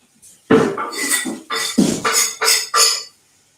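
A kitchen chopping board is handled during cooking prep with tomatoes, making several loud knocks and clatters in quick succession with short gaps between them.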